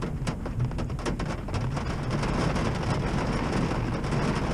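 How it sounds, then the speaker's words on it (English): Heavy rain pours steadily and loudly at a campsite in Shenandoah, with dense drumming on surfaces close by and no let-up throughout. "if I had rain gear that was worthy of this kind of rain"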